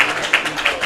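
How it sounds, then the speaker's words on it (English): Crowd applause at a college sports match between Boise State and Oregon, a short steady wash of clapping from a large audience with a few sharper surges. "And still great applause from the audience, great support here"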